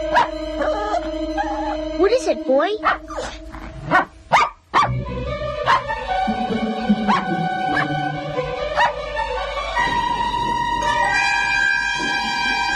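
Small dog barking and howling in a 1987 film, several sharp barks and a rising howl up close, with someone speaking briefly between them over a steady musical background.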